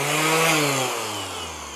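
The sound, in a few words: battery-powered random orbital sander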